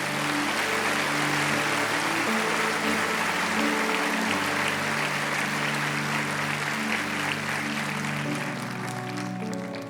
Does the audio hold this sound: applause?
yes